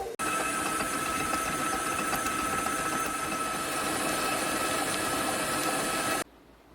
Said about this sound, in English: you can use a hand mixer, whatever works for you. Just get that butter good and creamy.